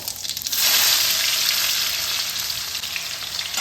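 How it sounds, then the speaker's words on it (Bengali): Onions and white cumin seeds fry in hot mustard oil with a loud, steady sizzle that swells after a brief start and holds close and even throughout. "পেঁয়াজটা এরকম হালকা করে ভাজতে হবে"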